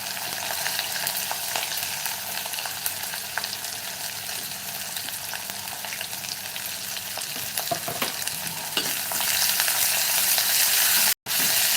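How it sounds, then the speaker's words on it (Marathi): Finely chopped onion frying in a pan for a spicy village-style pithla, a steady broadband sizzle throughout that brightens near the end, with a brief cut just before the close. "आणि कांदा थोडाफार असं लालसर करून घेऊया"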